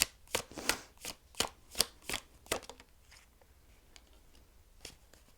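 Tarot cards being shuffled and drawn, heard as a run of about eight crisp, riffling card snaps in quick rhythm, followed by fainter scattered flicks, close and quiet.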